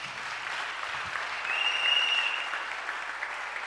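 A church congregation applauds, a steady wash of clapping from many hands that swells briefly and then holds, with no one speaking.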